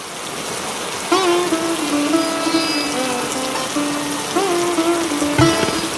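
Heavy rain pours steadily in a Bengali cartoon, a constant hiss of falling water that carries through the whole stretch while characters talk over it.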